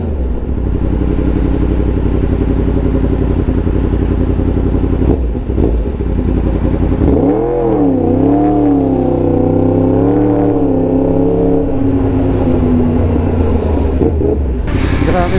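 A Yamaha MT-10 motorcycle idles with a steady low rumble, then revs up hard in first gear with a rising, wavering engine roar that holds for several seconds and drops back toward idle.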